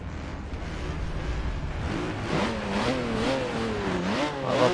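Honda NSX-R engine in Forza 7 on the Nordschleife, a loud sustained rev that climbs and falls through gear changes, with rising and dipping engine pitch and no talk over it.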